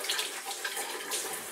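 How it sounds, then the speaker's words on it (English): A tap runs in a kitchen sink as hands are washed, a soft, steady hiss of flowing water with small splashes, quiet and close. "I'm just going to nip over and wash my hands quickly."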